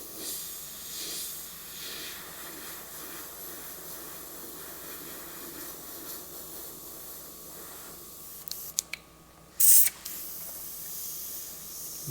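An airbrush sprays black and grey paint onto a leather saddlebag as a steady, soft hiss, with a few brief sharp bursts and clicks near the end as the trigger is worked.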